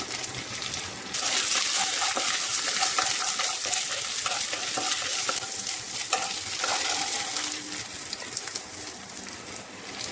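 Garlic and red onion sautéing in a pan for chicken nuggets afritada sauce, a dense continuous sizzle with scraping stirs, close and fairly loud, no talk.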